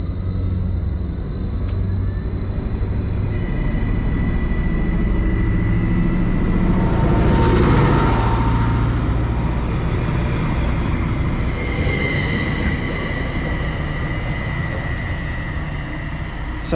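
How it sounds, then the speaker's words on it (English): Greater Anglia Class 755 unit 755-412 pulling out of Great Yarmouth station in Norfolk on a Norwich service, a rising electric-diesel engine hum and rail rumble building to a peak midway then easing as it moves off, with no talk. "So off goes 755-412 there, heading out on what I believe to be the 1433 Greater Anglia service from Great Yarmouth to Norwich"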